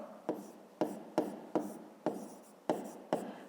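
Pen scratching out a fifth-grade math solution on paper, seven distinct strokes with sharp starts and rasping tails in a quiet room, no talking.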